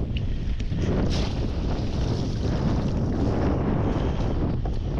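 Strong wind gusting across a fishing boat at sea while a trap is hauled in a stormy squall, a continuous loud roar with buffeting on the microphone and the low rumble of the boat throughout, no voices.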